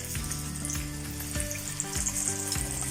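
Potato kebabs coated in rice flour batter frying in oil on medium-low heat, a dense, continuous close sizzle with soft bubbling and no talk.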